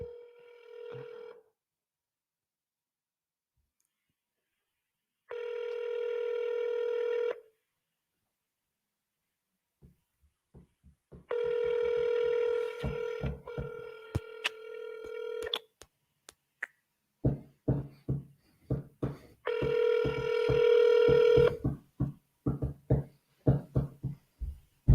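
An outgoing telephone call goes unanswered, with a loud electronic ringback tone repeating in evenly spaced bursts separated by silence, and clicks and dialing beeps scattered between the later rings.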